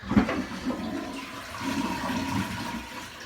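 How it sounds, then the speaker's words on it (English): A toilet flushes with its water supply shut off, so the tank empties into the bowl without refilling: a loud rushing, gurgling drain that carries steadily for about three seconds. "next I'm going to flush the toilet"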